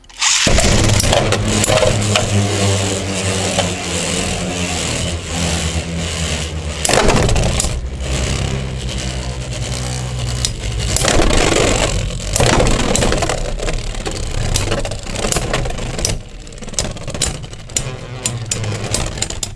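Beyblade X tops, including Hells Hammer 3-70H with attack wings, whir loudly and grind against each other, with repeated sharp clashes and knocks as they collide in a stadium.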